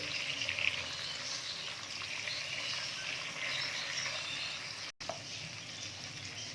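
Chopped tomatoes sizzle and fry steadily in ginger garlic paste in a hot pan for a beef kofta curry, a continuous close crackle with one brief break near the end.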